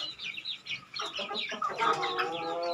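Bangkok chickens being raised as fighting birds cluck and crow in a quick, busy run of calls, close and moderately loud, with no talking.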